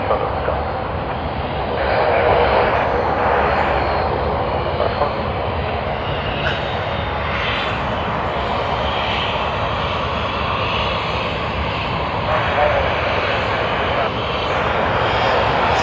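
Japan Airlines jet airliner (flight JL52) taxiing at Sydney Airport toward the holding point of runway 34 left: a steady, loud broadband engine roar that holds at an even level throughout, with slight swells in intensity.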